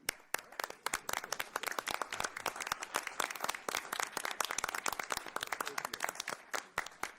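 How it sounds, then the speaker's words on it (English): Steady applause from a group at a city council meeting, many hands clapping continuously at a moderate distance, fairly quiet and unbroken throughout. "could we pause and have an applause for those that were recently?"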